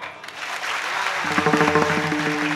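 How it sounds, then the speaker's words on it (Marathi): A crowd at a devotional kirtan gathering claps in a dense, sustained burst that swells slightly and then holds, with tuneful instrumental tones joining partway through. "एकदा मोकळ्या टाळ्या वाजवा"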